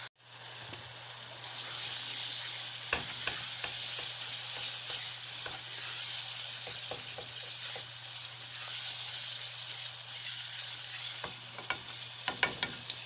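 Meat cooks down in a pan with a steady, quiet sizzle and bubbling, a low hum underneath and a few scattered clicks and scrapes from stirring.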